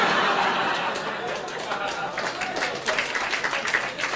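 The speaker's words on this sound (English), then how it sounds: "the round of applause for the mention of a fry-up" Studio audience breaking into a round of applause, strongest at first then thinning into scattered clapping mixed with chuckles and chatter.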